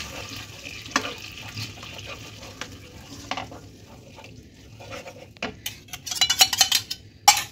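A spoon stirs whisked yogurt into cauliflower in a pan over low heat for a cauliflower roast. Soft scraping and clinks of metal on the pan come and go, close and quiet, ending in a few quicker taps.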